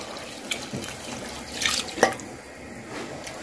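Water is poured from a cup into a single cooking pot holding rice and meat, a close, steady splashing stream with a few sharper splashes and drips, no talking.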